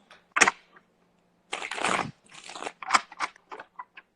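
Tarot cards being shuffled in bursts of crisp riffling and papery flutters, with a longer dense shuffle in the middle and several shorter snaps and slides after it, close and fairly quiet with no talking.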